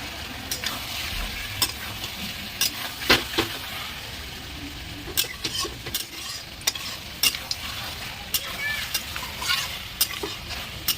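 Country chicken meat sizzles in a pan while being sautéed village style, a steady close frying hiss punctuated by frequent sharp spatula scrapes and clacks of stirring, with no voices.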